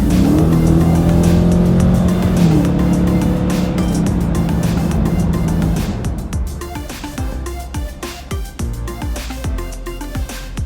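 Loud car engines rev and roar continuously, with a sustained growl that shifts into rougher, choppier revving partway through.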